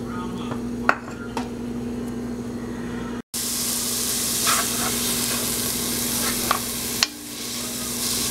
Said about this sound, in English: Fry the onions until they become brown, golden brown in color.